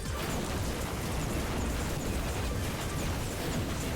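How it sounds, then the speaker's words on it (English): Dense, continuous rumbling bursts of explosions from the puzzle video game Luxor Evolved, a loud, steady wash of booms and crackles with no pauses across the whole stretch. "Explosions, yada yada."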